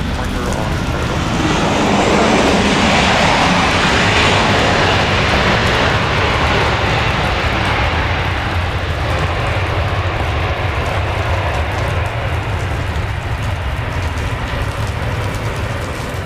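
A steady, loud jet engine roar at Dallas Love Field airport on a rainy morning, a broad continuous rumble with no break for its whole length.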